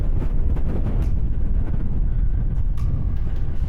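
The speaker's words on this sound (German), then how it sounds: "Und jetzt wird es richtig windig gerade." Strong wind gusts on an open hillside buffet the microphone with a loud, continuous low roar that swells and eases, with no other sounds standing out.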